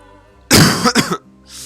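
A person gives one short, harsh cough that breaks into a couple of rough bursts, close and fairly loud, followed by a soft breath.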